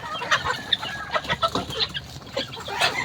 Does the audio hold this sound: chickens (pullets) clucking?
yes